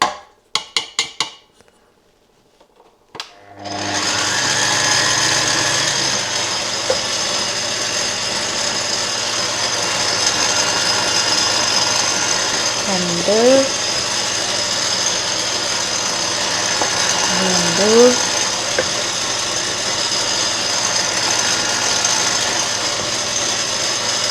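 An electric kneading machine working eight cups of flour into naan dough, a steady motorized hum after a brief quiet start, with faint periodic scraping swishes as the dough turns.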